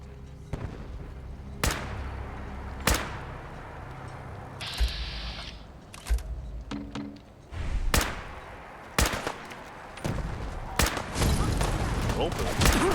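Sharp, scattered gunshots ring out in Fallout 4's Far Harbor during a foggy defensive fight, loud single cracks spaced irregularly with a denser crackling volley near the end, mixed with shouting voices and game sounds.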